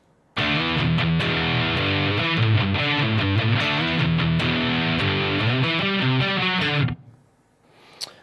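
Distorted electric guitar riff played as a practice example, loud and sustained with repeated chugging notes for about six seconds before cutting off into a brief ringing decay and faint noise.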